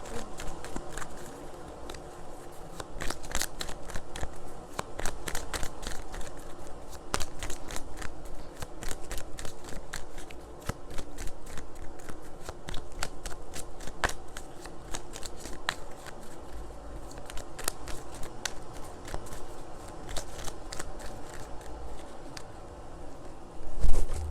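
Tarot cards shuffled by hand in a steady run of dense riffling and flicking, close and fairly loud, with a brief louder slap near the end as one card flies out.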